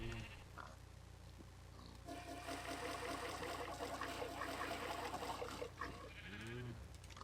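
A cow being milked in the Minecraft video game, giving faint repeated bleating-like animal calls alongside a soft liquid trickle, heard at low volume with no speech.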